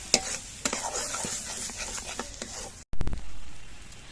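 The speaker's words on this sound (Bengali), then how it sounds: "এবার সব কিছু দিয়ে একসঙ্গে আরও কিছুক্ষণ কষিয়ে নিতে হবে" Spice paste for a pomfret fish curry sautéing in a pan, sharp repeated spatula scrapes and knocks over a crackling sizzle, close and fairly loud, with a brief gap of silence before stirring resumes.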